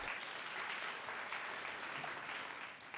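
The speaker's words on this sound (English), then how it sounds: "Can we give the twos a round of applause?" Audience applause for a two-year-old class at an early learning center Black History Month program, a steady wash of clapping from a crowd that holds evenly throughout and tapers slightly at the end.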